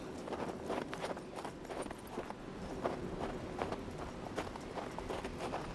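Horse hooves clip-clop in a steady walking rhythm over soft ambient background in the video game Hard West 2, fairly faint and continuous.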